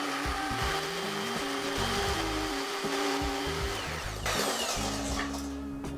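Brownie batter whisked at length with an electric mixer, a steady continuous motorized whir with shifting pitch, fairly loud and close, with no talking.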